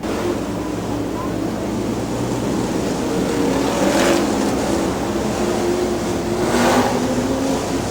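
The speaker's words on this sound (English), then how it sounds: "So the field heading down off turn number 2" Super Bomber stock cars roar around the dirt oval at Dixie Speedway, a loud, continuous drone of many engines that swells twice as cars pass, with faint talk underneath.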